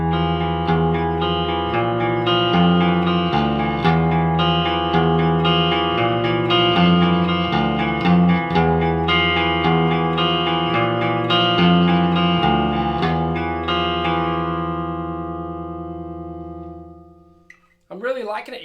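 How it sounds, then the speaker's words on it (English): An electric guitar on the rhythm pickup plays chords through a Marshall DSL1HR 1-watt tube head with the reverb turned up high. The chords ring out clean and sustained, then fade into a reverb tail, followed by a brief scrape at the end. "Let's go ahead and crank this reverb up more and play around with the rhythm pickup."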